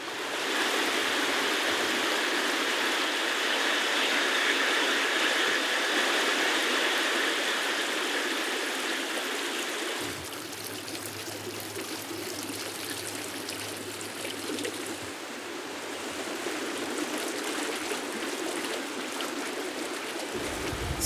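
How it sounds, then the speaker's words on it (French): Water flowing through a garden stream and waterfall in Kobe, a steady loud rushing wash that continues unbroken, with a slightly lower, deeper tone in the second half. "le bruit de l'eau crée une harmonie dans le jardin"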